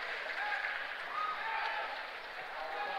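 Crowd noise at a men's junior college basketball regional final in Hale Pavilion, a steady, moderately distant roar of cheering and applause from the home crowd.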